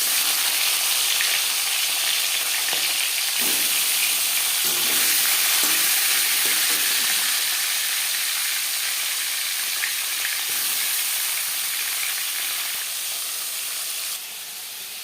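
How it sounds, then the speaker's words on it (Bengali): Marinated Latha fish fries in hot refined oil with a loud, continuous sizzle and crackle, and brief stirring scrapes near the start, settling a little quieter toward the end. "4 চামচ রিফাইন্ড অয়েল গরম করে নেওয়ার পর দিয়ে দেব ম্যারিনেট করে রাখা মাছ।"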